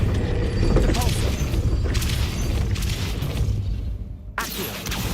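Depulso spell cast in Hogwarts Legacy, a loud booming blast with mechanical clatter and rumble, heavy and close, followed by a quieter tail and a second burst near the end.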